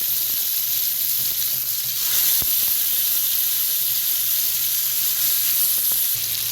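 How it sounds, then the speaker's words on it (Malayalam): Chicken pieces frying in hot oil in a pan make a loud, continuous close sizzle with small crackles and a low hum underneath, steady throughout with no talking. "എണ്ണ ചൂടായിട്ട് വന്നിട്ടുണ്ട്. അപ്പോൾ നമുക്ക് ചിക്കൻ ഓരോന്നായിട്ട് പരത്തി വെച്ച് കൊടുക്കാം."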